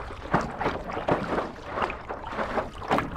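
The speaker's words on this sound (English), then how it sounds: "I'm going to paddle over there" Paddle strokes from a paddle board pull rhythmically through Arctic water near Tuktoyaktuk, about one stroke each second, close and fairly loud, with splashing and dripping between strokes.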